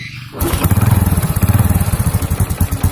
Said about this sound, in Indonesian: motornya hidup, lampunya hidup ya